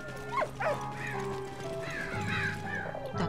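A dog barks a few times in the World War I video game Valiant Hearts: The Great War, with short yelps over a soft musical background.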